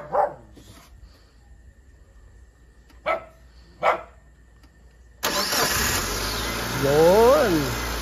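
A Mitsubishi Lancer Cedia with a 4G18 engine cold-starting after a few short sounds, catching and settling into a loud steady idle, with a voice heard faintly over it.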